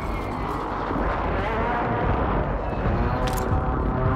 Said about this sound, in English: This big ass chopper real quick.